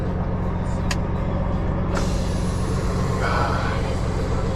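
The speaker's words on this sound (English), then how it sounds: "I hit the brake release." A truck's air brake releases with a sudden sharp burst of air about halfway through, set against a loud, steady engine rumble, with a fainter hiss trailing later.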